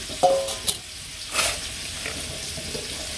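Snakehead fish fry in a pan with a steady low sizzle, with a few clinks and splashy kitchen noises breaking in close by.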